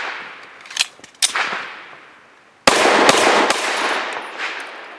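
A Remington R51 pistol fires 65 grain Inceptor RNP rounds, several sharp loud reports in an uneven string, each followed by a brief ringing tail outdoors.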